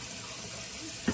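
Cold tap water runs steadily into a sink, a close, even hiss and splash that lasts the whole moment, with a faint knock near the end and no speech.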